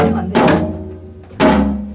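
A Korean janggu hourglass drum is struck twice in a samul nori lesson, two sharp, loud, resonant hits about a second apart, each ringing out and fading, with no talk.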